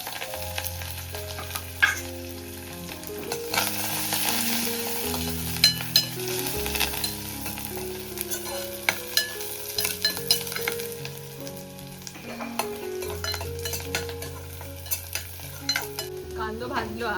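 Onion and curry leaves fry in two spoons of oil in a pan over a wood-fired stove, a constant close sizzle broken by repeated scraping stirs and occasional utensil clinks.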